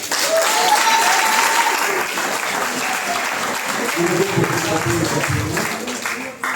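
Church congregation at a Methodist harvest festival in Allékédon applauding and cheering, a sustained dense wash of clapping with voices mixed in throughout.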